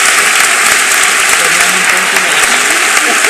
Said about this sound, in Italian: Quindi un applauso direi alla Martina Lauria.